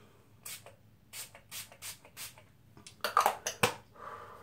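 Wet n Wild Photo Focus All Day Setting Spray being spritzed, several short hissing pumps in a quick series, then a few sharper, louder bursts close up.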